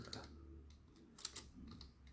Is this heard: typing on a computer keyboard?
yes